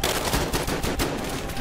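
Rapid gunfire in a Battlefield Hardline firefight, a dense string of sharp shots in quick succession, loud and close, over a busy noisy battle background.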